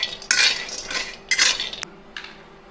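Almonds roasted in a little ghee and stirred in a kadhai: a few separate bursts of scraping and clinking, a spoon against metal and nuts sliding, close by and fairly loud, with no talk.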